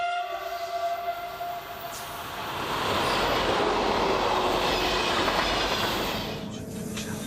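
A train running on the Travers–Frasne line, likely one of the six trainsets moved to the Neuchâtel–Frasne route, passes close by with a loud steady rumble and clatter that swells midway, a horn-like tone present, and no talking.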